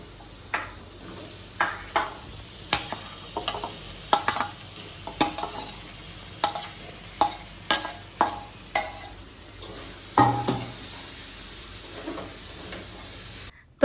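Diced potatoes stir-fried in a kadai after eggs, a spatula scraping and tossing them in rhythmic bursts over a steady low sizzle, close by with no talking.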